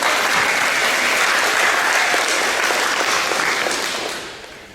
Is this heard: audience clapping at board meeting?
yes